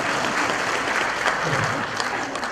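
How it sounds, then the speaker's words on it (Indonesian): Audience at a stand-up comedy show applauding, a steady wash of clapping throughout at moderate level, with crowd noise mixed in. "Makanya kalau dia boleh tepuk tangan buat beliau."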